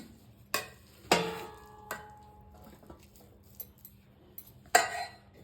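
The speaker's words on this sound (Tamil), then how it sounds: "சுட சுட சாதம் போட்டுக்கிறேன்" Hot cooked rice being served onto a plate in a home kitchen: a few separate metallic clinks and scrapes of a serving spoon against the dish, with quiet pauses between them.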